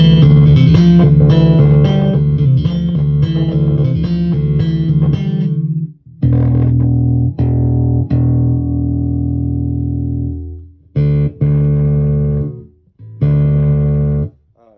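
An Ibanez GSR200 bass guitar with its bright switch on plays sustained notes and short melodic phrases with a bright, twangy edge, each note ringing out before brief pauses.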